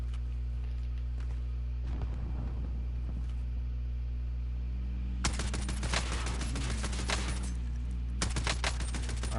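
Odin gun fires in Call of Duty: Modern Warfare in two loud, rapid automatic bursts, the first longer and the second shorter, over a steady low engine-like drone.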